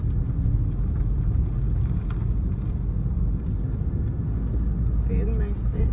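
Car engine pulling away in first gear, a steady low rumble that stays level throughout, heard from inside the cabin under faint background noise.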